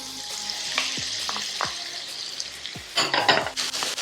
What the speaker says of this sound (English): in that fat, you want to add your onion. And your carrot and celery.